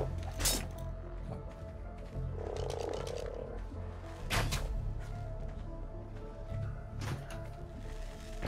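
Frog croaking in the video game ARK: Genesis, a few short sharp croaks spaced irregularly over a quiet background hum, with faint low tapping and mechanical sounds between them.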